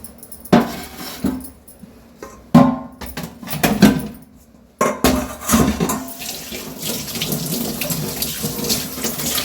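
Water poured off soaked rice into a sink, several splashing pours in bursts separated by short pauses, then a longer continuous stream running close and loud.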